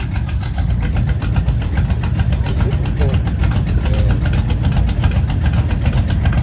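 Several classic muscle cars, including an Oldsmobile 442, a Chevelle and a Cherokee Wagoneer, rumble loudly with a continuous deep engine drone as they fire up and pull out, close by and steady throughout.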